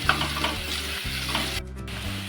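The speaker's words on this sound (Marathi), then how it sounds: "कांदा आपल्याला चांगला शिजून घ्यायचा एकदम असं गुलाबी होईपर्यंत" Onion frying in a pan with curry leaves until pink for a banana flower bhaji, giving a continuous close sizzle with stirring and a brief dip partway through.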